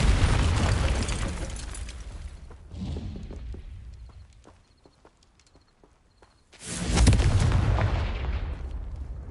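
Spell blasts of Confringo and Incendio in a Harry Potter video game: loud booming bursts at the start, a quieter stretch of scattered pops and thuds, then another heavy roaring explosion that slowly fades.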